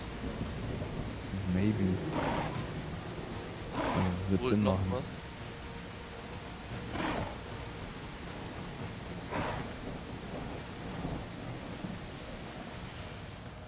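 Rain pours and thunder rolls in The Isle, a dinosaur survival game, as a constant hiss of rainfall with heavy low booms. People talk over the storm throughout.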